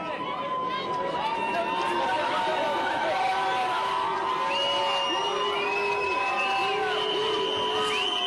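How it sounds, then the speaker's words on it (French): An outdoor crowd in Saint-Dié-des-Vosges boos and whistles at Emmanuel Macron, with sustained jeering, long rising and falling whistles and shouting voices blending into a constant loud roar. "les huées et les sifflets se sont fait beaucoup plus forts"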